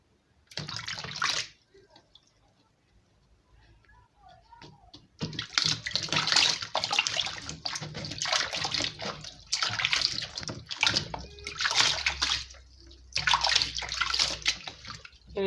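Soursop fruit is washed in a basin of water, with repeated bursts of splashing and sloshing separated by quiet pauses, fairly close and clear.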